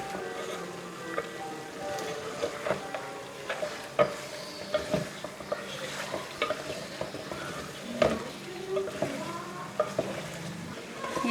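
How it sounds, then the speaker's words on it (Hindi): Ginger-garlic paste fries in a pan, giving a soft, steady sizzle, with a spoon scraping and stirring and occasional sharp clinks against the pan. "तो इसको हम 2 से 3 मिनट और भूनेंगे, ताकि इसकी जो स्मेल है वो मर जाए अदरक लहसुन के पेस्ट में।"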